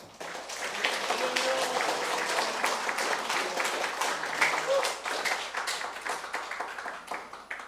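A church congregation applauds to welcome the pastor at a Sunday worship service, dense sustained clapping filling the room for several seconds before thinning out toward the end.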